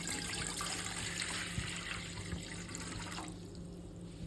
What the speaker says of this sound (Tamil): இதுக்கு தேவையான அளவுக்கு நம்ம தண்ணி ஊற்றிக்கலாம்.